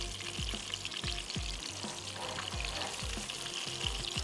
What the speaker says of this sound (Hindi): हल्के से हम इनको फ्राई कर रहे हैं।